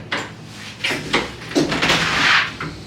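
An old door in an abandoned house is wrenched at and pushed, giving a few knocking thumps and scraping rattles followed by a longer grinding rub, close by and fairly loud.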